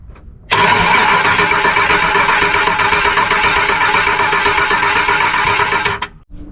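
An abandoned Foxbody Mustang GT convertible's engine cranks and catches on bad fuel, then runs loudly and steadily for several seconds before cutting off abruptly.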